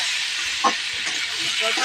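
Vegetables fry in a pan with salt and turmeric, giving off a steady, close sizzling hiss with a few faint stirring sounds.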